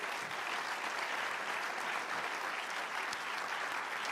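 Applause at a French film critics' awards ceremony, an even, unbroken patter of clapping from a seated audience, fairly distant and soft.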